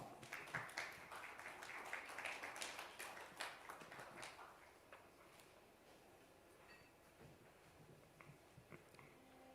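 Audience applause at an awards event celebrating public relations and corporate communications, with dense clapping for about five seconds that then thins to scattered claps and a quieter room.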